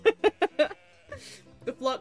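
Sheep bleat in the video game Wytchwood: four short, quick, wavering cries in a row, then softer animal sounds and a faint hiss, with music humming low underneath.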